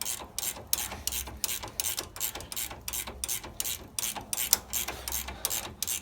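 A ratchet wrench tightens a shock mount bolt on a 2015 Kawasaki Teryx LE side-by-side during a 2-inch lift kit install, producing a rapid, steady series of sharp clicking strokes up close.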